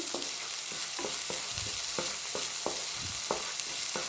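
Spiced curry masala with a whole small tomato sautés in a pan, a soft steady sizzle broken by regular scraping strokes of a spoon stirring about once or twice a second.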